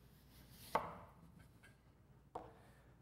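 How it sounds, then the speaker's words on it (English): A knife splits an extruded compacted soil sample from a Proctor compaction test: two separate sharp cuts about a second and a half apart, the first louder, each with a brief crunchy tail, close by in a quiet room. "split the sample with your knife"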